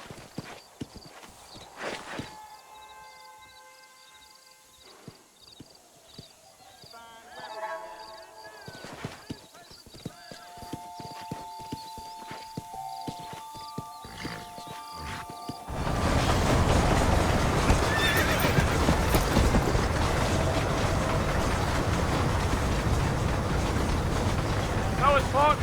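Horse hooves clip-clop at a steady gallop with occasional neighs in the Western game Red Dead Redemption, under music and spoken dialogue, before a loud broadband rush of movement fills the second half.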